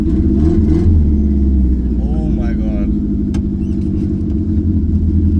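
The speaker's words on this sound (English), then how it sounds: "the exhaust is just throwing flames" Turbocharged Fiat Uno revving hard close by, with loud engine rumble and crackling exhaust pops; a man exclaims over the noise.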